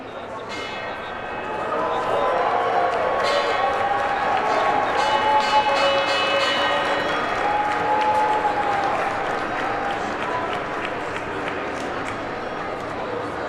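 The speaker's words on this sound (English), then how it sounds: "we're about to hear that first trade bell, so we'll be quiet and let you listen in." First trade bell rings on the NYSE floor for the Lanvin Group listing, then loud, sustained applause and crowd noise that starts about two seconds in and holds steady, with ringing tones over it.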